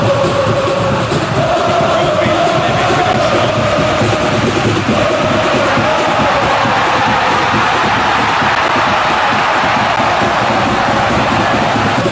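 A stadium crowd in the eFootball PES 2025 video game, at an Indonesia vs Brazil World Cup 2026 semi-final, roars in a loud, steady, dense wash that holds for about twelve seconds with no break.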